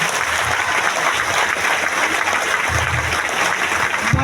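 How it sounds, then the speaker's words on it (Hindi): An audience at a big live stage event in Latehar, Jharkhand claps steadily and loudly for a performer named Rita, a dense continuous wash of applause with no clear breaks. "रीता जी के लिए जबरदस्त ताली होना चाहिए।"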